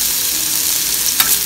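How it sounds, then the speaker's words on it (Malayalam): Onions frying in ghee for a garnish make a steady, close hiss of sizzling fat, with one quick stir or scrape near the end and no voices. "അപ്പോൾ നമുക്ക് നന്നായി ഫ്രൈ ചെയ്തെടുക്കാം."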